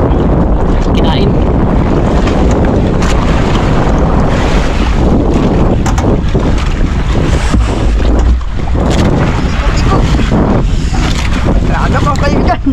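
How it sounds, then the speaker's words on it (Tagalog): Northeast monsoon wind at sea buffets a boat in a steady, loud roar, with water sloshing and rough gusts battering the microphone throughout. "Amihan yung hangin ngayon."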